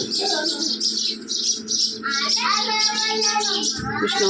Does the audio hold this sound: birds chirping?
yes